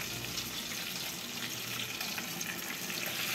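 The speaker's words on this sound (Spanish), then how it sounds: "ahí está friéndose" Four pieces of chicken fry in hot oil, a dense, steady hiss and crackle that fills the clip at close range with no voices over it.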